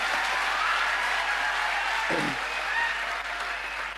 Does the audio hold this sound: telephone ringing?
no